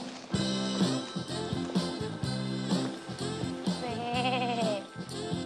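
Sheep bleating sound effect: a loud, close run of quavering bleats, several in a row with a wavering cry near the end, alone without talking.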